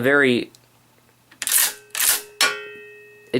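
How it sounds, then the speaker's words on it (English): The bolt action of an Austrian Steyr M95 rifle is cycled: after someone speaks briefly, three sharp metallic clacks follow in quick succession, close and crisp, with ringing tails. "I'm just going to cycle the action right now."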